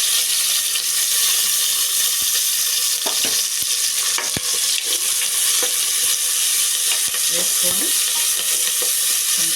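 Onions and green chilies fry in hot oil in a pan for a potato and brinjal curry, giving a steady, loud, close sizzle broken by occasional spatula scrapes. A single word is spoken briefly.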